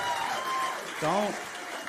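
Crowd applause from a stand-up comedy audience, a broad steady wash of clapping running the whole moment, with a comedian's voice speaking briefly over it partway through.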